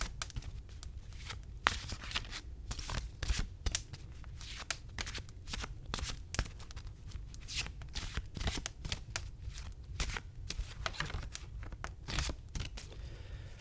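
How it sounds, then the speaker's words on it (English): Rapid, continuous riffling and flicking of a card deck being shuffled close up, with quick crisp snaps repeating throughout. "I'm just going to shuffle the cards."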